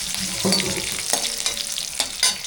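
Fennel seeds and curry leaves crackle and sizzle in hot oil, a loud, busy frying hiss with repeated scraping stirs and short bursts of spitting.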